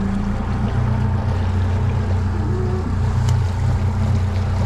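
Outboard motor on a 2025 Hewescraft Pioneer 22 open boat with electric steer tiller, a steady loud low drone revving up under open water noise.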